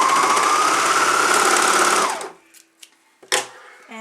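A serger sewing machine runs fast over diaper fabric with elastic for about two seconds, a dense, rapid whirring buzz that stops abruptly, followed by a few small clicks and handling taps.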